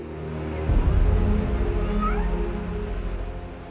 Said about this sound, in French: Le binôme qui était en reconnaissance à l'intérieur a trouvé le chat et me l'a dit par la radio, donc a sorti le chat